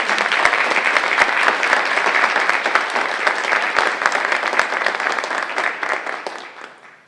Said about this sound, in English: you deserve a really big round of applause. So please join me in applause.